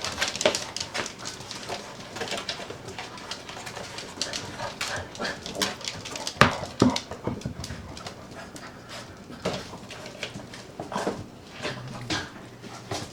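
Several puppies playing indoors, with dog panting and soft whimpers amid scuffling and small yelps throughout, close and fairly busy, no talk.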